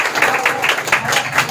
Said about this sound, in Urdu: آئیے سب مل کر خدا کے روح القدس کے لیے ہم زوردار تالیاں بجائیں گے